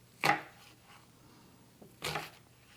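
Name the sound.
knife cutting an onion into four pieces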